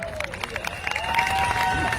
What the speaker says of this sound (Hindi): जबरदस्त तालियां।